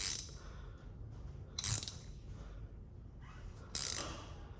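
Clamp being cranked down on a part during a suspension install, two short bursts of ratchety clicking separated by quieter handling noise, close and moderately loud.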